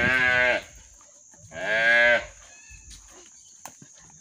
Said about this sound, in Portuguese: Tô vendo o João Miguel sair rolando com esse bezerro agora